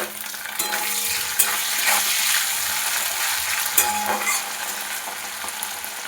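Chopped onion and tomato frying in oil for a jackfruit curry. A steady, close sizzle runs throughout, with a few sharper clinks and scrapes from stirring.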